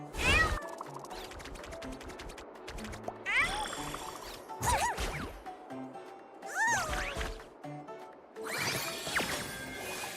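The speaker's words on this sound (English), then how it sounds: "I hear kitten hissing." A kitten meows and hisses repeatedly in the video game Honkai Star Rail, sharp cat calls coming in bursts over busy game sounds and music.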